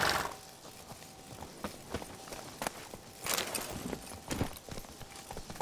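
Roach, Geralt's horse in The Witcher 3, clip-clops along in a steady walking rhythm of faint hoofbeats, with a few louder, sharper strikes standing out against a quiet background.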